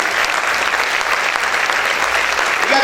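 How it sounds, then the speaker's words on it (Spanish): A church congregation claps hard and without pause, a thick wall of steady applause that fills the space, with no talk over it. "Vamos a aplaudir fuerte al Señor."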